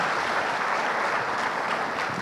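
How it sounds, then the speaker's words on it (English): Audience at a cricket talk event bursting into a big round of applause, dense continuous clapping throughout with no speech over it. "do you want to give him a big round of applause"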